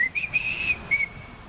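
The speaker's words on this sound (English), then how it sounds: "He started to whistle to raise his spirit" A person whistles a short tune during a Sleepy Hollow story reading, a few clear, close melodic notes heard alone over quiet background.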